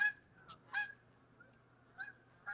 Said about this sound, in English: I think those are geese, actually.